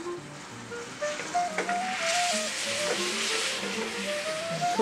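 Banana liqueur and light rum sizzle steadily in a hot pan, a loud continuous frying hiss with faint stirring, while background music plays underneath.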